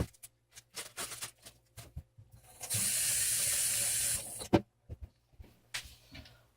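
Raw pork is rinsed under running kitchen tap water in a short, steady gush of about two seconds, with scattered clicks and handling knocks before and after.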